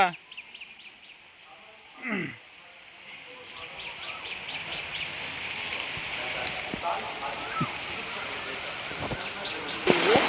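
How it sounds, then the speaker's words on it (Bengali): Sudden rain falls after a sunny morning, a steady broadband hiss of drops on surfaces that builds and stays constant, with a few brief sharper knocks and some faint background activity. "বৃষ্টি পড়ছে"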